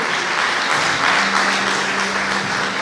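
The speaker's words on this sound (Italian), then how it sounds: "un grande applauso" An audience at a Veneto beauty pageant final applauds two tied contestants, giving loud, continuous, dense clapping that holds steady throughout with no speech over it.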